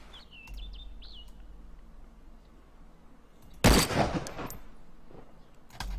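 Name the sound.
FN FAL assault rifle gunshots in video game DayZ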